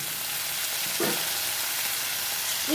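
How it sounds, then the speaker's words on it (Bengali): Chopped potatoes sizzle steadily in hot oil in a pan while being sautéed, a continuous close frying hiss with a few soft stirring scrapes and no talking. "কাঁটা আলু যেগুলো ছিল সেগুলো একসাথেই দিয়ে আমি ভালো করে একটুখানি কষিয়ে নেব"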